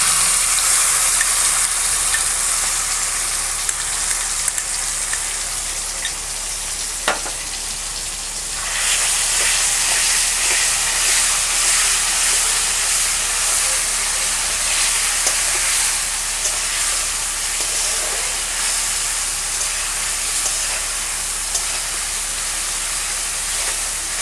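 Spice paste frying in a pan while cooking hilsa pulao, a steady, fairly loud sizzling hiss that runs throughout with no talking.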